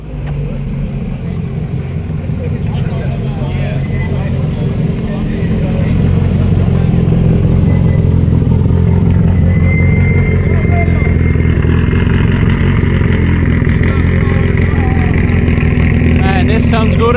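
A 1970 Ferrari 124 V12 engine idling and revving outdoors in Auckland, a loud sustained rumble that swells and holds at higher pitch, with people talking over it.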